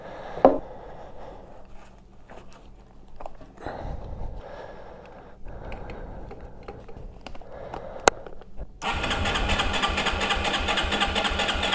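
A Yamaha TW200 motorcycle with a newly installed needle jet kit sounds quiet and uneven at first with a few clicks and knocks, then its engine catches and settles into a loud, steady, broadband idle for the last few seconds.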